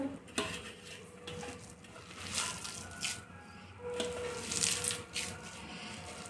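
Spices for kadhi are stirred in a cooking pot, with scraping and clinking of a utensil against the metal and soft wet squishing in short uneven strokes, close and fairly quiet.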